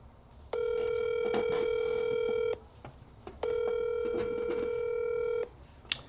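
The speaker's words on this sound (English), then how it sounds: "Let's give them a call and see if we can close this deal." A telephone call rings out on the line, two long electronic ring tones of about two seconds each separated by a pause, loud and clear in a quiet room.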